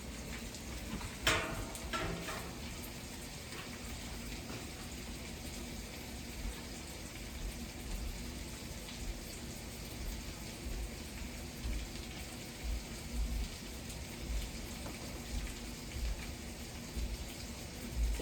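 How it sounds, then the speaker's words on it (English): A loc detox mixture is poured onto a head of long locs, making a steady soft watery trickle and splash that continues evenly throughout, fairly close and with no talking. "I'm just going to pour it on his hair."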